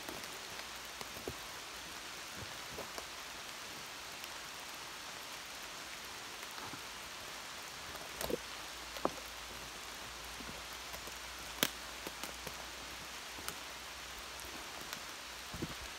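Steady rain patters continuously on rocks nearby, with occasional louder drips and taps breaking through the even hiss.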